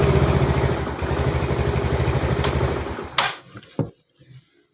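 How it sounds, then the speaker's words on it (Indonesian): A carbureted Yamaha Mio scooter engine, fresh from a camshaft and rocker arm repair, idles with a smooth, steady putter for about three seconds, then cuts off, leaving a few faint clicks and knocks. "suaranya sudah halus, noken asnya sudah diganti"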